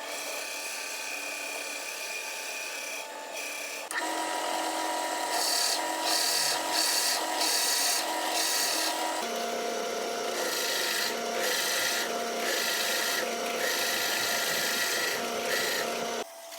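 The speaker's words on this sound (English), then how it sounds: "I'm using that to drill the hole where the candle is going to sit" A drill press's steady whine with repeated bursts of grinding as a bit bores into wood, close and continuous.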